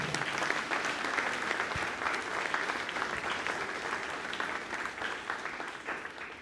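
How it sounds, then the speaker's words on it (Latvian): A concert audience at the Berģi culture centre claps for a dancer named Guntis in a dense, steady round of applause that fills the hall at moderate loudness and carries on without a break. "Aplausi Guntim!"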